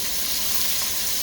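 Sweet onion hits a hot pan with a brief, steady, close sizzling hiss.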